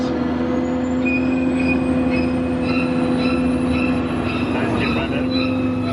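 A four-car theme park tram at Universal Studios rumbles steadily along with a constant motor hum and squealing wheels, while a voice talks over the ride.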